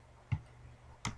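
A couple of isolated, crisp keystrokes on a computer keyboard, spaced about three-quarters of a second apart, while an IP address is entered into a login page for a Webmin install on an Ubuntu server.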